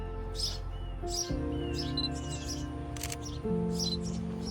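Backyard nest of baby birds being fed by the mother bird, with high, thin chirps repeating in short bursts at moderate distance over a steady low hum.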